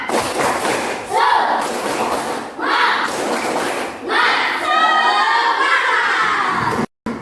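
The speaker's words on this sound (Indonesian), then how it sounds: "Ayo tepuk semangat." A classroom of students claps a rhythmic spirit clap in loud, broadband bursts, with children shouting and cheering along between the beats.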